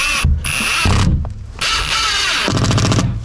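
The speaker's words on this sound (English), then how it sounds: "Gonna need a drill." A power drill drives screws through wood under a Shasta 1400 trailer, loud and close, whirring in bursts with rapid ratcheting clatter and short pauses between runs.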